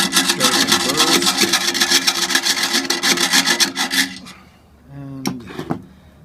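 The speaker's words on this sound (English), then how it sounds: "I'm going to come in with my file. Try and take care of" A metal file rasps back and forth against a freshly drilled steel ammo box to take off burrs, with quick, even strokes up close for about four seconds, then a pause and a couple of short scrapes.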